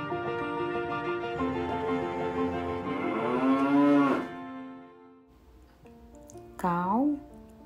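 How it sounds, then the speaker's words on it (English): Cattle on a farm low loudly in two long, drawn-out moos, the first stretching several seconds and rising in pitch, the second shorter after a brief pause, close and clear with no one talking. "Cow is a mammal."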